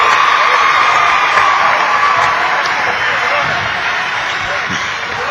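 A high school basketball crowd cheers and roars steadily in a gym during a Scott versus Poca game, loud and dense throughout, with a commentator talking over it.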